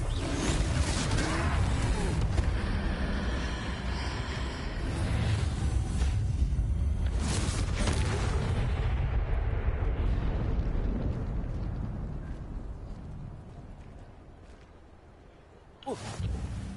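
A Confringo blasting spell bursts in Hogwarts Legacy during a fight with a troll, a loud roaring explosion that rumbles for several seconds before slowly fading, then a sharp new hit near the end.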